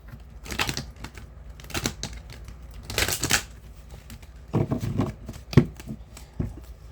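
Tarot cards being shuffled in several short riffling bursts with pauses between them, close up and fairly quiet, with no talking.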